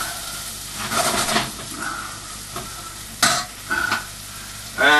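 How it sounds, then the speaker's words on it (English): Curry paste with onions and mushrooms frying in a pan for a beefburger curry, taken almost to burning: loud close sizzling with bursts of spoon scraping and clattering at irregular intervals. "Frying curry and burning it like this really brings out the flavour and infusion of curry."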